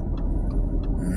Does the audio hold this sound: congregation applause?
no